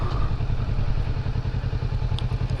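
A motorcycle engine idles close by with a steady low rumble and a rapid putter, and no voices.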